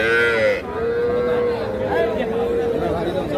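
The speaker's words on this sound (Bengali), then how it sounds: "এটা একটা ষাঁড় বাচ্চা, হালকা নাভি ঝুলানো আছে।" A young bull calf, about two months old, moos loudly at a Pabna cattle market; a long, drawn-out low bellow follows a brief burst of background noise, with faint crowd chatter underneath.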